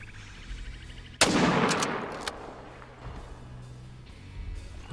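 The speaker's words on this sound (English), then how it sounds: "We're gonna take the shot because they're starting to move." A hunting rifle fires once at an elk in the hunting game Call of the Wild, a sharp, loud crack that fades into a short echoing tail.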